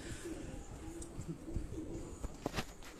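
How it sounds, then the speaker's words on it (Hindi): Crested pigeons coo close by in short, low repeated calls, with faint background chatter and a few brief clicks. "राजा अजीम साहब के जो टोपी वाले कबूतर हैं"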